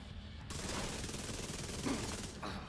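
Rapid automatic gunfire from a high-rate-of-fire gun in a video game, a short continuous burst of fast shots at moderate loudness.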